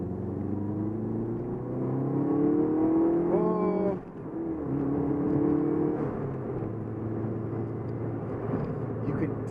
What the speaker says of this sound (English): you feel the turbo come on and it becomes a completely different car